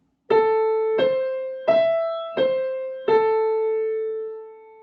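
Piano plays a short five-note phrase centred on the A above middle C, each note struck cleanly and left ringing, moving slightly in pitch before settling back, close and alone with no talking.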